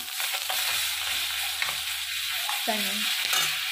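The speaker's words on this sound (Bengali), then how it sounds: "আমি সামান্য একটু রসুন দিলাম" Steady hissing sizzle of garlic frying in hot oil, with a few soft clinks of stirring and a brief tonal scrape near the end.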